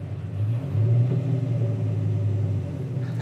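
A Chevy G20 van fitted with an 8-litre V10 Viper engine rumbles deeply as it pulls away in first gear, a low throaty drone swelling briefly and holding steady at close range.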